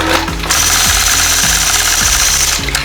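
Domestic sewing machine stitching boxy curves on a quilt with a Sway 3 ruler, a loud steady mechanical whir with rapid needle chatter that pauses briefly for repositioning several times across the stretch.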